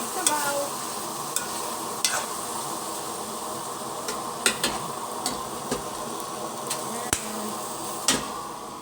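Mung beans sauté in a pan, a steady sizzle of frying broken by repeated scraping strokes of a utensil stirring, close by and with no talking.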